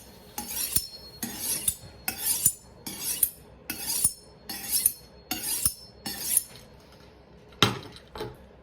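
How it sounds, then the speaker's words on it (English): A kitchen knife blade drawn repeatedly along a steel honing rod, about eight crisp metallic scraping swipes in a steady rhythm, then a pause and two final strokes, close and clear with no talking. "by using this knife straightener, you will straighten that knife right back out"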